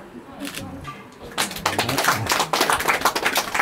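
A group of people breaks into dense, steady applause at a Kirati engagement ceremony, the clapping beginning after a quieter stretch and continuing to the end under background voices.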